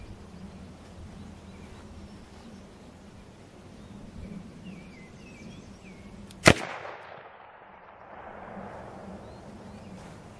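A single sharp, loud shot from a Ruger Redhawk .44 Magnum revolver fired one-handed outdoors cracks once and then rolls off into a fading echo, with birdsong and faint ambience before it.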